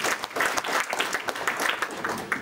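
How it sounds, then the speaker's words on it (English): Audience applause at a ceremony hosted by a deputy speaker, a steady dense clapping crowd filling the whole moment at close range, with no voices standing out. "Please, another round of applause."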